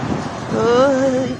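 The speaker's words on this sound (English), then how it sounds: "Good breeze." Cold March wind buffets an outdoor spot, a rough, steady rush swelling midway while a thin whistling whine rises and fades over it.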